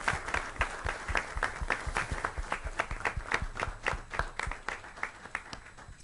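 A small audience claps for RBC Chamberlain Middle School Students of the Month at a Board of Education meeting, distinct individual hand claps in a loose uneven rhythm, moderately close, with no talking.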